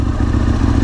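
A motorcycle engine idling up close, already hot, with a loud, steady, rapid low-pitched pulsing throb and slight mechanical clatter.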